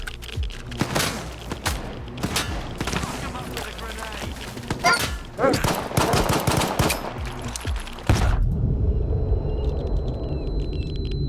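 Rapid bursts of automatic gunfire raking the player in the shooter Stalker 2: Heart of Chornobyl, loud, dense cracks in clustered volleys for about eight seconds, then a sudden cut to a quieter, muffled low rumble.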